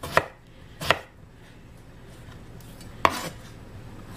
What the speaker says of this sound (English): I'm going to continue chopping here